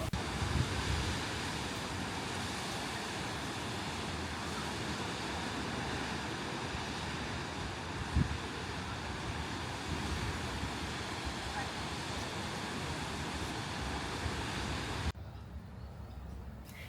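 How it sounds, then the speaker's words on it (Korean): Ocean surf washes onto a Sydney beach below cliffs, a steady, loud wash of waves mixed with wind buffeting the microphone, continuous throughout before dropping slightly at the very end. "여기는 정말 파도 소리와 새소리만 가득한 곳이었어요."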